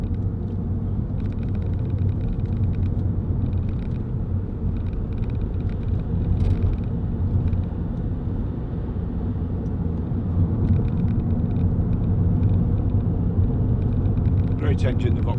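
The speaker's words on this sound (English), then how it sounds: "Great engine, the Vauxhall diesel, very economical, pulls well as well" A Vauxhall Zafira 1.9 CDTi 16v SRi diesel engine drones steadily from inside the cabin on a road test drive, a constant low rumble with road noise that holds even throughout.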